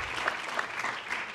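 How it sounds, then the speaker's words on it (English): Audience applause for the mayor at a smart and sustainable cities conference panel, a steady wash of clapping from a crowd throughout, fairly even in loudness with no voices over it. "You guys already clapped for the mayor"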